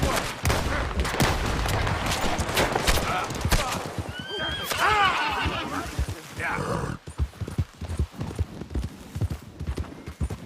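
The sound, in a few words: gunfire in Red Dead Redemption 2 video game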